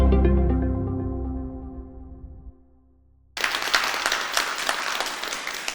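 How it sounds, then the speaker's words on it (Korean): An audience at a broadcast talk event bursts into applause to welcome a speaker. A sustained musical chord rings out and fades to near silence first, then dense, lively clapping fills the last few seconds. "김재현 매니저님을 박수로 환영해 주시기 바랍니다"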